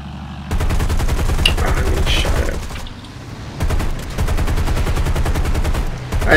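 Rear gunners on a bomber in War Thunder firing long rapid bursts of machine-gun fire, loud and close, with a brief lull midway before the hammering resumes.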